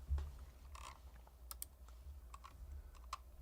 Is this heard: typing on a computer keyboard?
yes